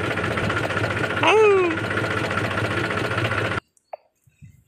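A village tractor engine runs with a steady, close, low rumble, a brief higher squeal partway through, then cuts off abruptly, leaving only a few faint sounds.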